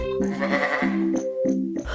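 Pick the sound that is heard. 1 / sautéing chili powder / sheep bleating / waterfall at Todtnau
sheep bleating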